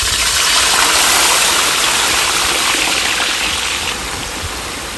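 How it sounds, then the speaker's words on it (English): Blended shito ingredients hitting hot oil, a loud, steady broadband sizzle that roars continuously close up and eases slightly toward the end. "Now I'm going to pour my blended ingredients in the oil."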